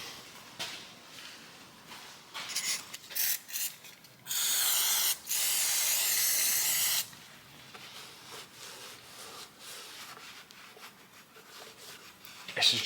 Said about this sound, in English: This is just my motorcycle degreaser,